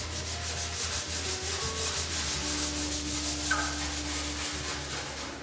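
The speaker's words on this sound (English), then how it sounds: "Here I'm sanding the window trim" Continuous close sanding of wooden window trim, a steady dry hiss with fine rapid stroke texture over a low background hum, even in level throughout with no talking.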